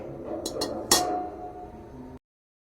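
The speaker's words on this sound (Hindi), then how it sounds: "हमने प्रेशर ले लिया, इसमें स्टैंड रख देंगे।" A metal stand is set down into a pressure cooker during chicken prep, giving a few quick light clinks followed by one sharper metallic clank that rings briefly, close and quiet.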